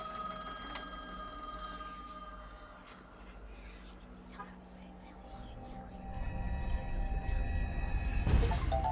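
An old telephone rings inside the horror video game The Medium, its bell tones repeating over a murky, droning ambient score that swells louder toward the end, with no talking.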